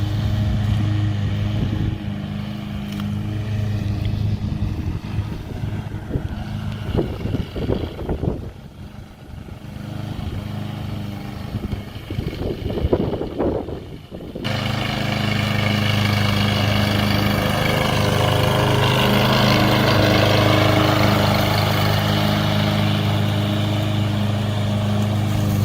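A new Craftsman lawn mower with Pace Control running on a steep, hilly lawn, a loud steady engine drone close by that dips and fluctuates briefly midway before returning to a strong continuous roar.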